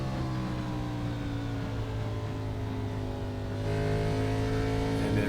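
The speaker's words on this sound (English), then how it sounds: "Hear him kind of get off that throttle, let the car roll in." An Xfinity Series stock car in a racing video game at Iowa drones loudly and continuously as the driver lifts off the throttle, the engine note easing and then shifting tone near the end.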